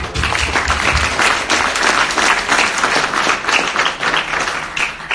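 A crowd applauds steadily at a candidate forum, dense clapping filling the room at full volume, with scattered cheers mixed in.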